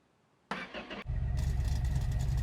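Phantom's truck in a garage: a brief cranking burst, then the engine catches and settles into a steady, loud, even idle that runs on alone.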